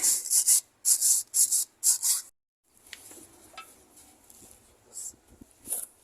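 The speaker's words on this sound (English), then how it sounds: "just give it a bit of a quick wire brushing" Quick wire brushing of a steering part on a Fordson Dexta tractor: five short, close rasping bursts in a steady rhythm, then a pause and softer scattered scraping.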